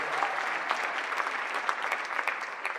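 Audience clapping at a city mayor's State of the City address, fairly soft and somewhat distant, a steady patter of many hands with a few sharper claps standing out.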